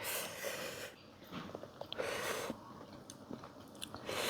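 Close-up chewing of northern Thai sai ua sausage, with wet, crunchy bites and mouth sounds in irregular bursts, fairly quiet.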